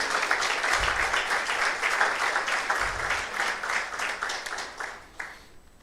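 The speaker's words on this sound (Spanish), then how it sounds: "Dale un aplauso al Señor." A church congregation applauds during a Spanish-language sermon, a dense, steady wash of clapping hands that holds for several seconds before thinning and fading toward the end.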